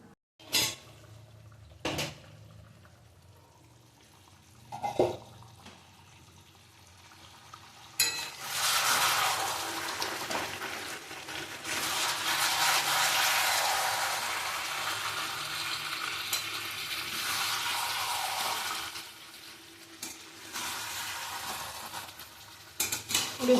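Large pieces of marinated chicken, including leg pieces, sautéed in a pot for biryani. A few isolated clanks and stirring knocks come first, then a long, loud, close sizzle that fades near the end as scraping resumes, with no talking.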